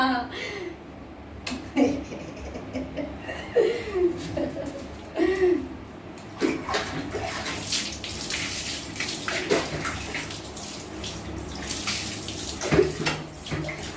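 Water splashing and sloshing in a tub while a baby is bathed, in irregular close bursts, with voices and small chuckles mixed in.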